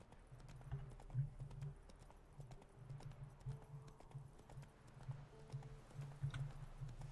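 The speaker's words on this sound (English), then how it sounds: "All right, back on the horse." Steady clip-clop of horse hooves trotting at a regular rhythm in The Witcher 3: Wild Hunt, moderately close, with faint background ambience and no talking.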